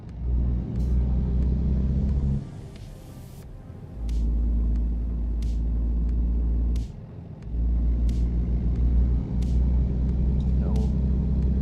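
Truck engine from American Truck Simulator, played in a car at an Alamo rent-a-car lot, rumbling steadily at low pitch with brief drops and restarts and faint clicks overhead.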